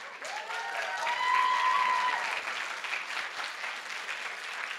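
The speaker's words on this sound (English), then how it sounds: "let's give a last big applause for them" Audience applause for panelists at an animation festival panel, a dense, fairly quiet wash of clapping that swells and then holds steady, with a faint whistle-like tone early on.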